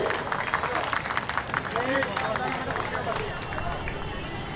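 Crowd at a drawing competition prize distribution applauds a medal winner, dense steady clapping mixed with chatter and a hubbub of voices throughout.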